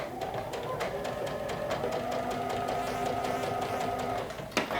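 A sewing machine stitches slowly through a bulky hem of layered fabric and interfacing, giving a steady close hum with regular needle ticks and a brief knock near the end.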